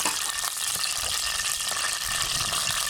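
Oil heating in a kadhai (wok) gives a steady, close, fairly loud hiss and crackle that holds evenly throughout with no voices.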